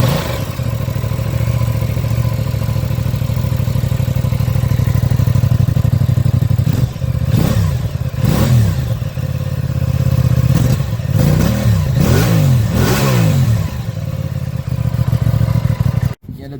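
An Aprilia RS 660 motorcycle with a twin exhaust outlet idles loud and close with a steady low rumble, then gets a series of sharp blips of the throttle, the revs rising and falling in quick succession before cutting off.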